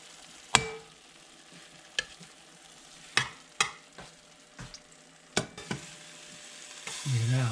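Bitter melon (ampalaya) sautéing in a pan: faint, steady sizzle broken by several sharp clacks of a utensil stirring and scraping, ending in a louder burst of frying.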